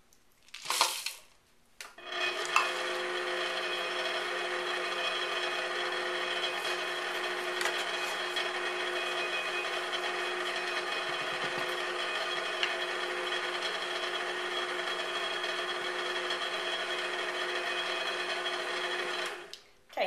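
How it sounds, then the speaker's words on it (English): A stand mixer on its stir setting runs steadily for nearly twenty seconds, folding chocolate chips into pumpkin bread batter, with a constant whirring drone and faint rubbing of the beater, preceded by a brief clatter. "I'm going to put the chocolate chips in the batter and let the mixer do the work"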